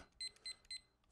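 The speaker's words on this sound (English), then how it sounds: "It's going to beep, folks" Three short electronic beeps from an appliance timer, evenly spaced and clear against a quiet background.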